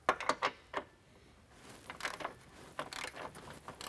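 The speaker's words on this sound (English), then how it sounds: "Now we're going to tighten the bracket to the body of the vehicle with a 14mm socket." A socket ratchet tightens bracket bolts on a running board under a 2014 Toyota Sienna, quiet close bursts of ratcheting clicks separated by short pauses.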